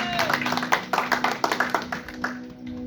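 A church congregation claps to acclaim the Lord with quick, fairly steady claps close by, while a voice carries on over the clapping.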